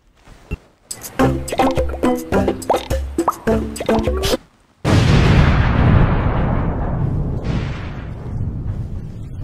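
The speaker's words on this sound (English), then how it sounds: "There's not supposed to be an explosion when Doc blows the bubble hard." A cartoon explosion sound effect goes off when a bubble is blown hard, a sudden loud boom that decays into a long rumbling tail, following a quick run of bubbly popping and plopping effects.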